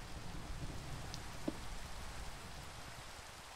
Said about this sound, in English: absolutely gorgeous in the rain here